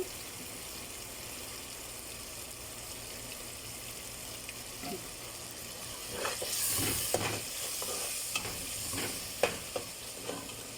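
Food stirs and fries in a pan with baharat spice, a steady hiss of sizzling oil under intermittent scraping and stirring strokes that grow busier and louder in the second half.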